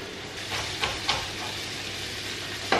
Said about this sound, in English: So next to go in with the sausages, I'm just going to put in half an onion.